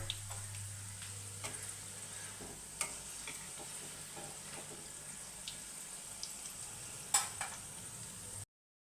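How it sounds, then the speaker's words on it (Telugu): Jaggery gavvalu sweets frying in oil produce a faint, even sizzle with scattered light clicks and taps, and a low hum fades out partway through. "ఒక సైడు కాలిన తర్వాత మరొక సైడు తిప్పి వేసుకోవాలి."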